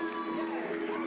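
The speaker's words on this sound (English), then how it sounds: "a round of applause for Sukomi Stevens" Crowd at a youth festival cheering and clapping for a singer after her performance, a dense, steady wash of voices and whoops close by with no single voice standing out.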